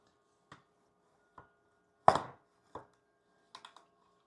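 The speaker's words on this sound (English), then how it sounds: "Look how that thing sliced that meat up." Ribeye steak being sliced with a knife on a cutting board, heard as a handful of sharp separate chopping strokes spaced about a second apart, one heavier cut in the middle and a quick double tap near the end, with no talking.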